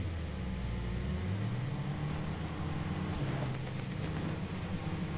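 Vehicle engine in a combat video game, a durable car driving with a steady low droning hum that shifts pitch slightly as it moves, loud and continuous with no talk.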